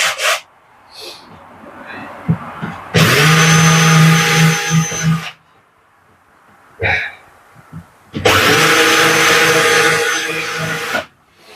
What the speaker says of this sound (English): the old countersunk bit or countersinking bit, put that into the drill